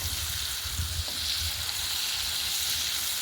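Summer squash and zucchini being stirred as they fry in brown butter, a steady soft sizzle with faint stirring scrapes throughout and no talking.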